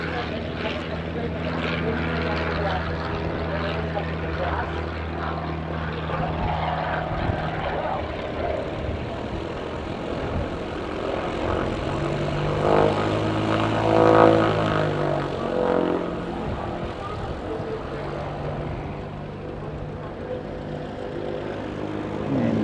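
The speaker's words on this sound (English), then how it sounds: "Baby prop in front of us making lots and lots of noise." A small propeller aircraft drones nearby at an airport, a loud, steady engine hum with a strong low tone that swells briefly midway, while voices talk over it.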